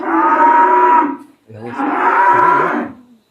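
Cattle at a farm give two long, loud, close moos one after the other, separated by a short pause, with no talking over them.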